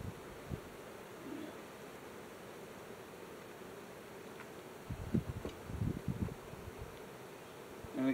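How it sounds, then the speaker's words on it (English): Honeybees hum faintly around a hive, a soft steady buzz with a few closer, louder passes and light bumps near the end. "Look at all the bees. Very busy, very active."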